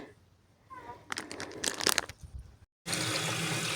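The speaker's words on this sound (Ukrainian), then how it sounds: "Терміново набираю воду, поки є світло" Water runs from a tap into a container, a steady broadband gush that grows louder after a brief gap, with some clinking and rustling before it.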